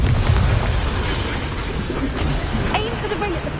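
A Bombarda blasting spell in Hogwarts Legacy on PS5 booms amid dense, rumbling combat noise, followed by a few brighter magical zaps and whooshes near the end.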